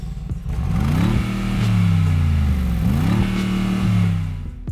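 A 2019 Mercedes-AMG G63 engine revs hard through its side exit exhaust pipes, two rising blips with a deep, loud burble in between, heard up close with no talking.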